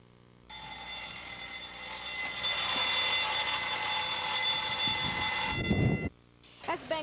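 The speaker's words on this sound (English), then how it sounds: "As bank alarms sounded around them" A bank alarm rings during a bank robbery in Duluth, a loud steady electronic ringing tone that holds for several seconds, then cuts off abruptly amid some clatter.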